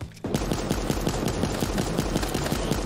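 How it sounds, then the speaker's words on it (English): Warning shots fire in the video game Super Animal Royale as a fast, continuous automatic stream of gunshots that starts abruptly after a brief quiet moment and stays loud throughout. "Those are warning shots, sir."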